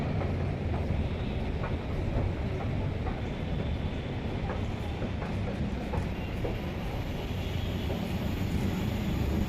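A metro train on the Nagar line rolls into the station with a continuous broad rumble and hiss, steady and moderately loud for several seconds, and no clear voices over it.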